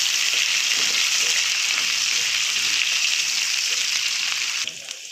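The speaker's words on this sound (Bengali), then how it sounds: "কাঁচা লঙ্কা, আলু, একসঙ্গে ভাজবো।" Potatoes and green chillies frying in hot oil, a loud, dense, continuous sizzle close by that drops off slightly near the end.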